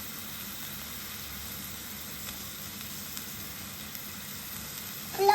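Tomatoes sizzle in a hot frying pan for a kurma, a steady soft hiss of frying with light stirring clicks, ending in a brief louder clatter.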